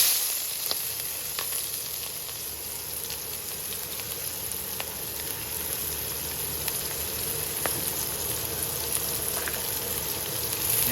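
Onions sizzle steadily in hot ghee in a kadai, a dense crackling hiss that holds for the whole stretch, with occasional faint taps of a spoon and no speech.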